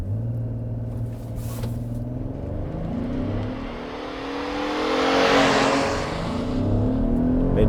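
A 2022 Chevy Traverse with a 9-speed automatic launches hard from a brake boost. The engine note climbs steadily and rises into a loud, strained roar as the SUV accelerates.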